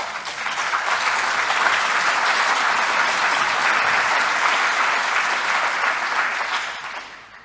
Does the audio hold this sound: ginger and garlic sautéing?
no